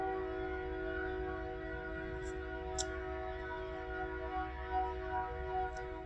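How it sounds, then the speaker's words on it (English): A train passes on a nearby railroad track, heard as a low steady rumble with sustained tonal hum and a few faint distant whistle-like blips, distant and fairly quiet throughout. "the joys of living near a railroad track."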